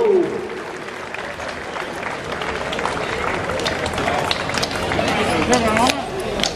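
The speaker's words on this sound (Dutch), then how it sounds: "Een applaus voor onze meiboom." A crowd gathered for a maypole raising applauds, steady dense clapping mixed with cheers and voices outdoors, continuing loudly throughout.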